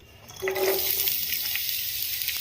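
Onion and green chilli hitting hot oil for a cauliflower tomato curry, a steady hissing sizzle that swells in after a quiet start and holds loud and close for the rest of the clip, with no talking.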